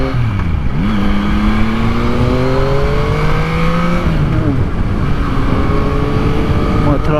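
A Yamaha MT-09 motorcycle downshifting in traffic, with the engine note falling and rising through gear changes at close range and loud, under steady road and wind noise.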